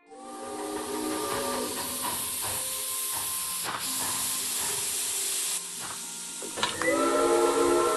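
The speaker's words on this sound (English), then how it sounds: "Those whistles mean a train with a snowplow has arrived from Broad." A train pushing a snowplow arrives with a steady, loud hiss of steam, while drawn-out whistle tones sound over it and rise again near the end.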